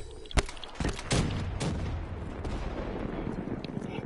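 Gunfire in the Piggy video game: a sharp shot followed by a run of booming blasts over a dense, noisy game soundtrack, with a voice talking faintly underneath.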